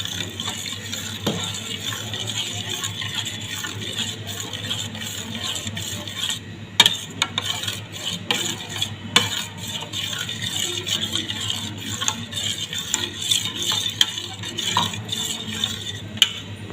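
A spoon stirs ragi ambali with buttermilk in a pot, producing steady soft scraping and sloshing with occasional sharper clinks against the vessel, close and moderately quiet, with no talk.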